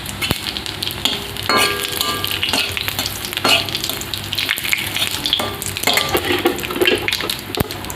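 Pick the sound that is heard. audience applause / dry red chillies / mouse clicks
dry red chillies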